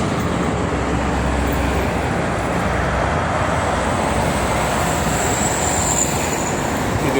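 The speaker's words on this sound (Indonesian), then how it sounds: "Didominasi oleh kendaraan truk kedua arah." Steady roar of heavy morning traffic dominated by trucks and buses moving both directions on the Jakarta–Cikampek toll road, a continuous dense wash of engine and tire noise with no pauses.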